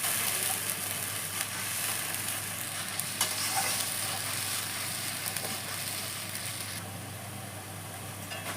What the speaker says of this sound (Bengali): পেঁয়াজটা আমি কিছুটা ভালো করে কষে নেব।